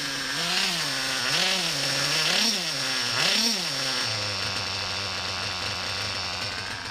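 A small two-stroke Reds R5 engine revs up and down in several rising bursts, then settles into a steady idle, loud and close.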